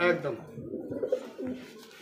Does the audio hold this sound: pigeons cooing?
yes